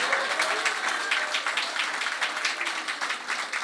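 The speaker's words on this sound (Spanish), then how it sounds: "¿Puede dar un aplauso al Señor?" A church congregation claps for the Lord during a worship sermon, a thick, continuous burst of many hands close by and loud throughout, with a few cheers or voices blended into the sustained applause.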